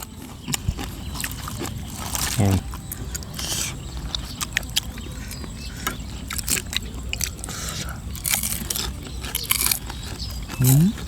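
Someone bites and chews a Thai fresh shrimp salad with crunchy bits, making close, repeated crunching and wet chewing sounds. Voices talk over it at times.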